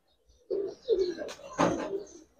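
Giribaz pigeons coo in three distinct bursts after a quiet start, close and fairly loud, with a sharper flutter or call mixed into the last burst and no speech.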